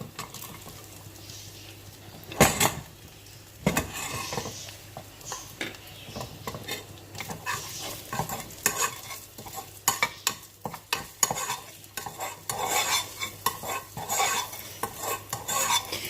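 Chicken sizzles steadily in a pot while a utensil stirs and scrapes with occasional clanks, close and moderately quiet.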